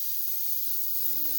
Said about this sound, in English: Just spray it real good.